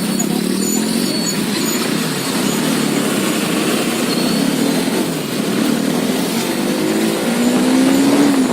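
A motorbike engine runs in stopped city traffic, a loud, steady drone that holds throughout and swells slightly in pitch near the end.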